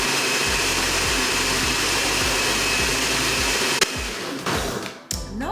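Countertop blender whirring steadily as it purées pitaya, a loud continuous motor drone with rhythmic pulsing, then briefly sputtering and changing pitch near the end.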